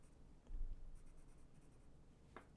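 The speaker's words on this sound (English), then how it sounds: "a whole lot of shading and a whole lot of graphite on the tile" A graphite pencil shades across a small drawing tile, making soft continuous scratchy strokes close up and faint, with a few brief taps and no talking.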